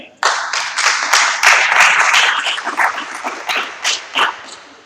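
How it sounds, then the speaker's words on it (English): Audience at a Rotary club meeting claps for a guest, loud, dense hand clapping starting abruptly and carrying on for several seconds before thinning into a few scattered claps at the end. "Let's give him a hand clap."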